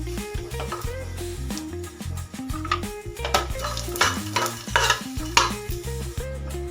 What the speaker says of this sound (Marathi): मी इथे घेतले आहेत थोडेसे फुटाणे, हे पण आपल्याला भाजून घ्यायचे आणि थोडेसे धने त्याच्यामध्येच घालून घ्यायचे